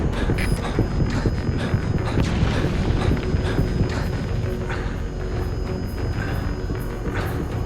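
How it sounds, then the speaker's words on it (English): Continuous dense barrage of rocket explosions and rumbling blasts from a helicopter attack run in Metal Gear Solid V: The Phantom Pain, loud and sustained with overlapping booms throughout and no voices. "Rockets away."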